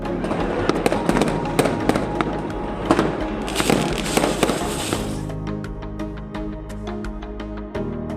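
A rapid barrage of firework bangs fills the first half, then scattered crackling pops continue more sparsely until the end, at the Golden Temple in the late evening for the Gurpurab of Guru Arjan Dev.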